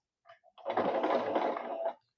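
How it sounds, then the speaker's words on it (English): Sewing machine running a steady straight seam across fabric for a scrub cap, preceded by a few short starting stitches, then about one and a half seconds of continuous close, even whirring. "I am going to give it a 5/8 stitch from one end to the other"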